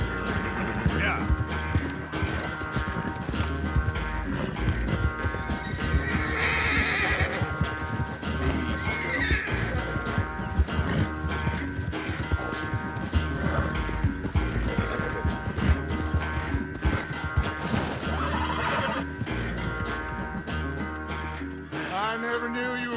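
A horse in the Red Dead Redemption 2 video game neighs and whinnies over rhythmic hoofbeats, set against a constant bed of game music and ambience, with a voice speaking at times.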